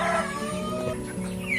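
Broiler chickens on a farm of about 1,500 birds cluck steadily and close by, a dense, continuous flock chorus with no talking.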